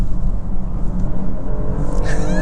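A 2024 BMW X5 xDrive50e plug-in hybrid with 483 horsepower accelerating hard at full throttle, a steady loud drone of engine and road noise building over a couple of seconds, with a rising whine near the end.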